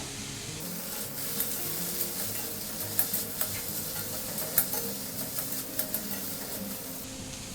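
Spiced fig curry with salt and Kashmiri chilli powder sautéing in a pan gives a steady low sizzle, with scattered light ticks and scrapes of stirring throughout and no talk.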